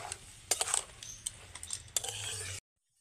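A spatula clinks and scrapes in a pan while an egg masala fry is stirred, a quiet run of close metallic taps and scrapes that stops abruptly.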